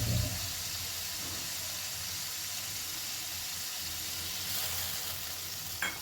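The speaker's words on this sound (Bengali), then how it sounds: "যে পোস্ত, তিল আর সর্ষে আমি বেটে রেখেছিলাম সেই বাটা মশলাটা এর মধ্যে দিয়ে দিলাম।" A ground paste of poppy seeds, sesame and mustard fries with eggplant in a pan over a low flame, giving a steady, soft, even sizzle with no voices.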